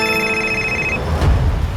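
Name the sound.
phone ringing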